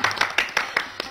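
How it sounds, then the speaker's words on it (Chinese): A small group claps in quick, evenly spaced bursts, about six sharp claps in just over a second, close and fairly loud with no talk. "请热烈的鼓掌。"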